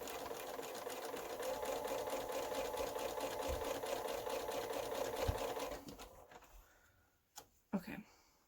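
Sewing machine stitching a quilt block, a steady rapid whirring hum running close and loud for about six seconds, then stopping, followed by a few brief clicks and knocks of handling.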